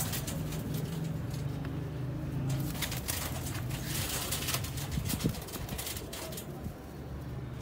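Old Sialkoti pigeons cooing, low soft throaty coos repeating over a busy background of rustling and movement, fairly near.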